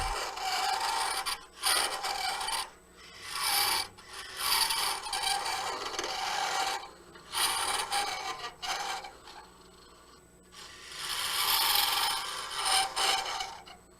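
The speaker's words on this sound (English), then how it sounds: "This is one of Laurent Leclos' hollowing tools" A hollowing tool cuts into wood spinning on a lathe during a woodturning demonstration, giving repeated bursts of rough, rasping scraping that rise and fall in steady passes with brief pauses between them.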